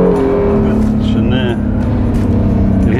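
A Honda NSX sports car runs close by, its engine droning in a steady low hum with a slight rise in pitch toward the end, while voices talk over it.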